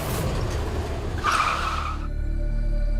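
A car skids to a stop, tires squealing in a sharp screech that rises mid-clip and cuts off, leaving a low engine idle over steady road rumble.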